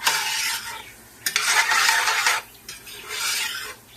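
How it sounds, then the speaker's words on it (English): Onions sautéing in grease beside fried fish, with bursts of scraping stirring and a sizzling hiss that swells and fades in uneven waves, close and clear with no talk. "Fry this, saute this down a little longer"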